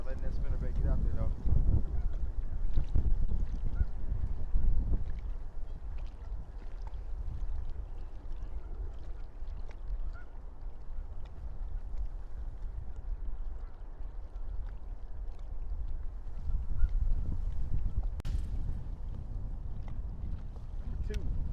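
Wind gusts buffet the microphone while bass fishing from a boat in early spring, a steady low rumble swelling louder at the start and again near the end, with faint water movement beneath.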